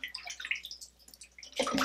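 Raw chicken rinsed with lemon under water in a sink, with light splashing and trickling at first, then a louder burst of running water at the end.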